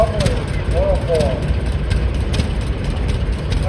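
A 1920 Advance-Rumely OilPull tractor runs in an October tractor show parade, its heavy low engine rumble steady and fairly close while a voice talks over it.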